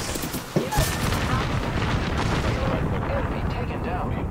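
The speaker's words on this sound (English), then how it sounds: "Was he just blindly shooting through the smoke?" Gunfire fired blind through smoke in Apex Legends, a dense rumbling barrage of shots and booms, with a couple of sharp cracks near the start. The roar runs continuously and loud, then thins slightly toward the end.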